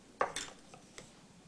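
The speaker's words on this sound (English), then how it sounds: "Stir it all up." Turkey stuffing with old-fashioned turkey seasoning stirred in a bowl in a kitchen, a few sharp clinks and scrapes of a utensil against the dish, close and brief, with no talk.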